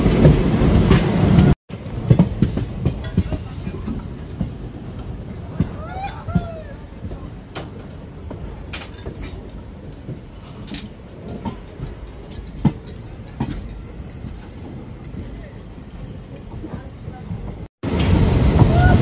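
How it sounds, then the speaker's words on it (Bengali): An Assam local train rolls into Jogighopa station toward platform 2, its steady rumble and wheel clatter broken by sharp metallic squeals and knocks, with brief louder bursts at the start and end and voices nearby. "আমাদের ট্রেন যোগী ঘোপাতে ঢুকছে।"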